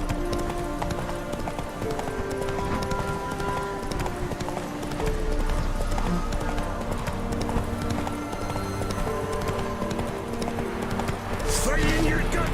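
A horse gallops in The Witcher 3 video game, steady rapid hoofbeats with faint whinnies, close and continuous, while someone talks over the galloping.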